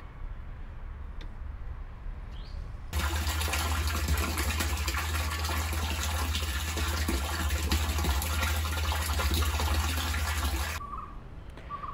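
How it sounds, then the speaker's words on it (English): A solar-powered water pump starts sending water through a pipe: a sudden, loud, steady rushing gush runs for about eight seconds, then cuts off abruptly, leaving quiet background. "So now the water is being pumped. It is flowing through this pipe here."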